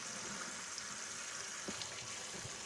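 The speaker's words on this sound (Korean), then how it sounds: "2번 정도 헹구겠습니다." Salted napa cabbage for kimchi being rinsed in water, a steady soft wash of running and splashing water with faint sloshes, low and continuous throughout.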